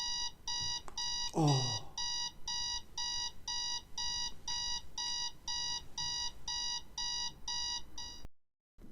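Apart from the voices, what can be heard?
old basic alarm clock ringing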